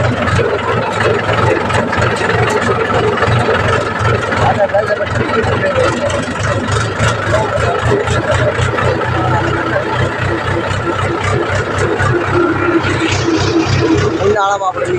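A tractor engine runs with a loud, close, rhythmic chugging that holds steady. Voices talk over it.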